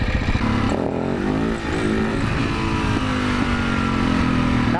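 A supermoto motorcycle engine revs hard and holds a high, steady, buzzing drone with wavering pitch, loud and close, with a brief dip partway through and no talking.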